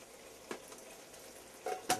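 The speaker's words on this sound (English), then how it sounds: "Now is a great time to go ahead and add your sauce in." Sauce poured into a hot pan of frying chicken wings with caramelized onions and vegetables for a stovetop cacciatore, giving a few quiet, short sizzling bursts over a low background hiss.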